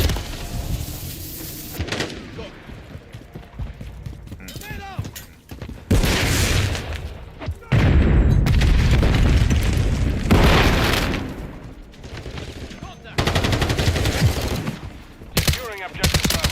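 Call of Duty combat with bursts of gunfire and heavy explosion booms, loud and intermittent, separated by quieter stretches with occasional voice callouts.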